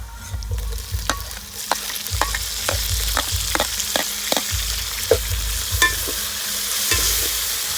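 Tomatoes hit oil with frying curry leaves for a Nellore fish curry, a loud continuous sizzle punctuated by regular scraping stir strokes of a spoon in the pan, close up with no talk.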